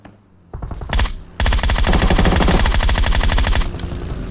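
Rapid automatic gunfire in the PUBG Mobile game, a short burst and single shots followed by a sustained loud volley of fast, evenly spaced rounds lasting a few seconds.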